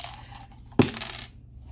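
Dice for a Build-A-Farm savings game drop onto a hard surface with a single sharp clatter that rattles briefly and fades, close and alone in a quiet room.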